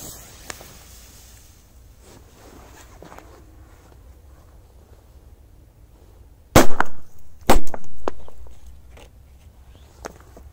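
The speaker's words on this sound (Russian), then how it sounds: "Косар от Joker Fireworks 4 на 2 взрыва." Two sharp, loud firecracker blasts from a Joker Fireworks cracker, close together after a quiet outdoor stretch, the second followed by a brief ringing decay.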